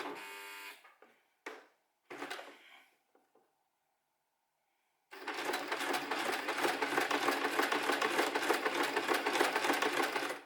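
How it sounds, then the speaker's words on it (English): A sewing machine stitching along the edge of a fabric pin cushion starts after a few short stop-start bursts, then runs as a steady, close, continuous mechanical whirr with rapid needle clatter for about five seconds. "And then just begin to sew."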